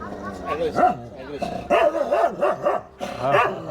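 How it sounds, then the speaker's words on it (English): A winery dog at a Nashik winery barks and yips in several sharp bursts, fairly close, with people talking around it. "Not a very friendly winery dog."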